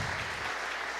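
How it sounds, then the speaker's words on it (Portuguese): Audience applause at a church family conference, a brief, dense burst of clapping from a crowd, fairly quiet and settling slightly as it goes. "Deu um forte aplauso"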